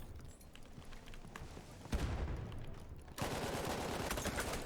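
Light machine gun fire in Battlefield 1, bursts of rapid automatic shots cutting in sharply and loudly, with heavier sustained firing and rumbling impacts in the later part and no voices.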